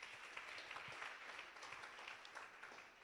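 Church congregation applauding and cheering for the Lord Jesus Christ, a dense, continuous wash of clapping heard from a distance, faint but steady throughout.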